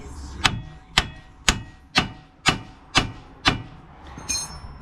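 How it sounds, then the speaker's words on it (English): A hammer taps a part loose on a car during repair work, striking seven times in a steady, evenly spaced rhythm, each a sharp close metallic knock. A fainter clink follows at the end. "you literally just need to give this a bit of a tap"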